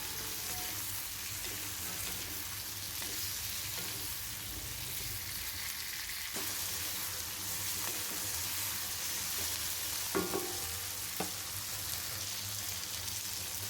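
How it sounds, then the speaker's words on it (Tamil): Onion, tomato and green chilli sautéing in a pan for coriander chutney give a constant close-up sizzle and crackle, with occasional stirring scrapes and light taps near the end. "இப்போ வெங்காயம் தக்காளி பச்சை மிளகாய் மூணுமே வந்து நல்லா வதங்கணுங்க"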